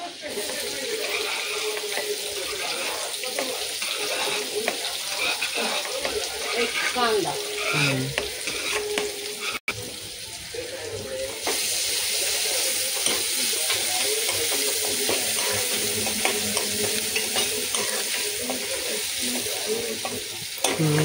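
Garlic and then onion frying in oil for fried rice with mixed vegetables give a steady, close sizzle with stirring scrapes throughout, and a voice talks faintly underneath.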